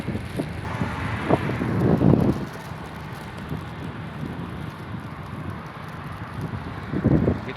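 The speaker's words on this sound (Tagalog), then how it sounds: "tama lang hangin hindi masyado malakas" Steady wind rushing across the microphone while cycling, with low buffeting gusts that swell louder around two seconds and again near the end.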